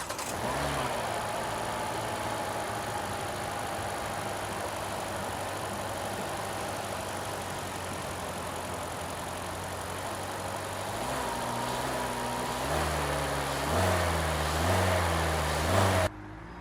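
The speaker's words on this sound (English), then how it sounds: "Under the hood is an inline 4-cylinder powered by smart screen technology" A 2024 Hyundai Elantra's inline four-cylinder engine idles with a steady low hum, then gives a couple of light revs near the end, heard close and alone.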